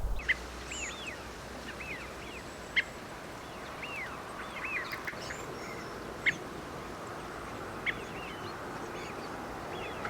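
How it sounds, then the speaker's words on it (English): Faint, thin seep calls from a thrush-like bird repeat every second or so, high and gentle, over a steady background hiss with occasional clicks. "Its call is a gentle sounding seep, seep, and here it is now."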